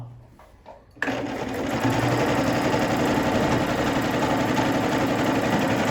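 An Elmas 990P sewing machine starts up and stitches in straight mode, a steady, loud, fast mechanical whirring and rattling that runs continuously at close range after a brief quiet start.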